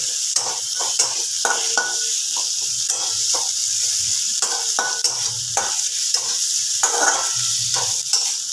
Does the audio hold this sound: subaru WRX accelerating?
no